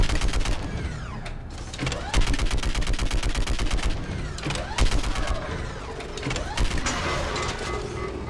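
Mounted gun fired in Mass Effect 3, a dense, sustained stream of rapid automatic shots with mechanical whirring, loud and continuous throughout with brief swells.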